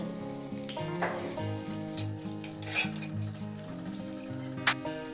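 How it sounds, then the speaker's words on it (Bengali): Two roughly chopped onions fry in white oil in a wok, sizzling steadily up close while a utensil stirs and scrapes against the pan, with no talking. "এবার আমি এখানে দুটো পেঁয়াজ নিয়েছি একটু বড় বড় করে কেটে এগুলো হালকা একটু ভেজে নেবো"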